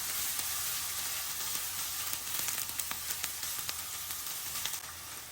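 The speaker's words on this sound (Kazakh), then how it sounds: "Қызып тұрған табамызға сұйық майымызды құйып қыздырып алып, пиязымызды салып, сарғыш түс болғанша қуырып аламыз." Onions frying in hot oil in a pan, a steady close sizzle with crackling pops scattered throughout, no voices.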